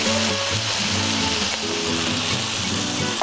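Grated coconut mixture with kasundi sizzles and froths steadily in a pan on the stove, a loud, continuous frying hiss with small bubbling crackles throughout and no voices.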